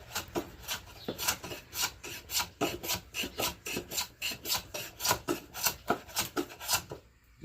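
Hand plane taking light passes across mulberry wood to flatten a hump, giving a steady series of rhythmic rasping strokes, about two per second, close and moderately loud with no voices.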